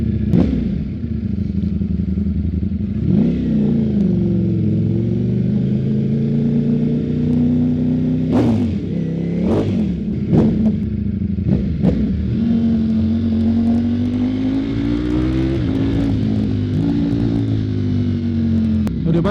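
Ducati Streetfighter motorcycle engine held at high revs in first gear while riding, a loud sustained growl with rising and falling pitch and occasional clatter, heard close up.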